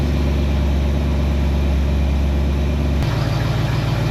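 A 1968 Ford Mustang engine idles after a timing adjustment, giving a loud, steady low rumble throughout, with a slight shift in tone about three seconds in.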